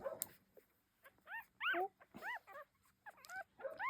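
Two-day-old newborn puppies whimper and squeak in short, high, repeated cries, close and fairly soft, with a person briefly speaking.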